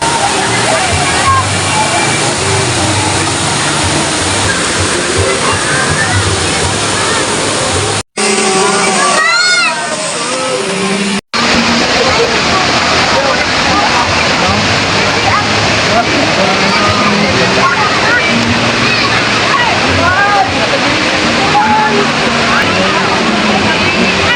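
A cold mountain waterfall in Tabaco City pours in a loud, steady roar onto bathers standing beneath it, the rush filling the scene with only a brief dip partway through.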